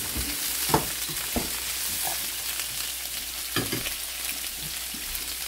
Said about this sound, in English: simply we're going to saute that